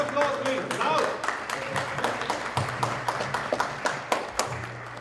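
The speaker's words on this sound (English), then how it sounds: "a round of applause for the panelists and the moderator, Abul" Audience applause rings out for a panel's speakers and moderator at a live event, a dense spread of hand claps with sharp individual hits, while a voice speaks over it.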